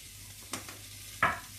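Five-spice and other spices sauté in a hot pan with lamb, giving a low steady sizzle with two brief, sharper bursts of frying as they are stirred, close up and without speech.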